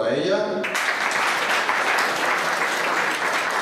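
Audience at an evening event bursting into applause after a short bit of talk, dense steady clapping filling the room close and loud.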